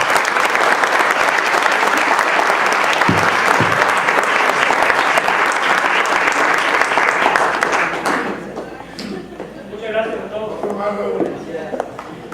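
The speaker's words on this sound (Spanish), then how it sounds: "Un fuerte aplauso para el maestro." Strong applause from a conference audience at a formal lecture session, dense and loud for about eight seconds before it fades, followed by someone speaking over a few lingering claps.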